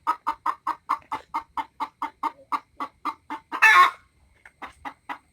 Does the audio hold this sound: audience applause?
no